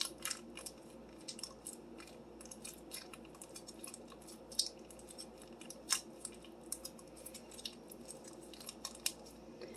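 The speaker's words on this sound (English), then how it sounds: "I'll cut the top open and squeeze out as much as you can." Scissors snip open a plastic packet of Velveeta cheese in a home kitchen, producing a series of soft, sharp cutting clicks and crinkles over a quiet background hum, with no talking.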